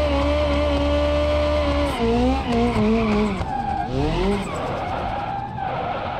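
A drift car in BeamNG.drive slides with loud, sustained tire squeal and skidding over a revving engine, the pitch wavering as the car swings through the turns.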